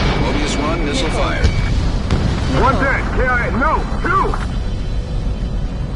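Missile explosions in the Ace Combat video game, dull booms beneath a constant roar of engine and combat noise, with a radio voice talking over them.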